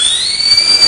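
A human voice mimics a loud, squeaky door swinging open, producing one sustained, high, slightly rising squeal, close and fairly loud.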